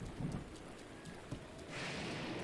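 Rain and distant thunder in the video game Breath of the Wild, a soft steady hiss of falling rain with low rumbles underneath, the rain swelling louder toward the end, faint overall.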